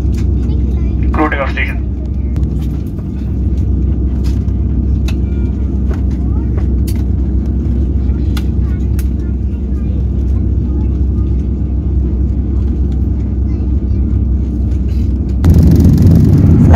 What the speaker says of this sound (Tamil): ஃப்ளைட்டு டேக் ஆஃப் ஆக போகுது